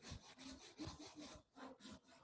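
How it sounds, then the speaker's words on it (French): A Japanese saw cuts through a small piece of wood in quick back-and-forth strokes, about six rasping passes, each a soft close scratch in a regular rhythm. "on va prendre une scie japonaise comme ça"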